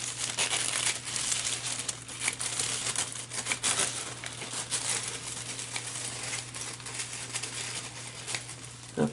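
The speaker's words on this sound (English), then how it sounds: "I'm going to cut half of one piece of tissue" Scissors slicing through a sheet of sparkly craft tissue paper, a steady crinkly rustle with fast papery crackles running continuously for several seconds, close up, with no talking.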